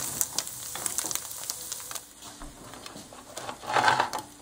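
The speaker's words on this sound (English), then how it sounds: "Place the sliced baguette onto a hot pan." Sliced baguette sizzles on a hot pan while a buffalo tofu sandwich is being made. The crackle is soft and steady, with scattered small clicks and a brighter hiss swelling near the end.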